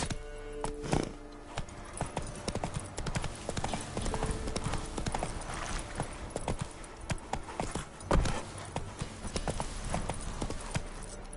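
Hooves of Roach, the horse in The Witcher III: The Wild Hunt, clattering in a fast, steady clip-clop rhythm throughout, with a few louder thuds, close and prominent over game ambience.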